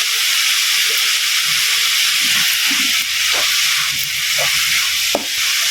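Onions sprinkled with salt sauté in a pan for an egg curry, giving a loud, steady, close sizzle and hiss with occasional stirring scrapes and small pops.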